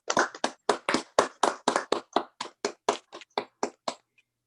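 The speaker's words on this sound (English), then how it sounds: "so let's give him a round of applause anyways." Sparse clapping at a city council meeting, a small group or a few people producing about sixteen distinct, evenly spaced claps that fade out near the end, fairly quiet with no talk.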